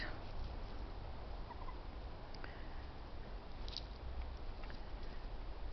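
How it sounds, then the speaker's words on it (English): Several turkeys gobble faintly in a yard on a calm, cool day. Scattered short gobbling calls come from a distance over a steady low background hiss. "noisy turkeys."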